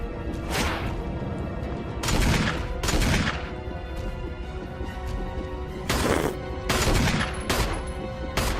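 Gunfire in the video game Resident Evil HD Remaster: loud, irregular bursts of shots that come singly and in close pairs, with heavy impacts over a constant background of game noise.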